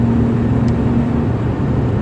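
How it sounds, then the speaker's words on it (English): Steady in-car drone of a 1.8-litre naturally aspirated four-cylinder engine, a continuous low hum with a clear tonal line, heard up close from inside the cabin without talk. "Listen to the engine a bit."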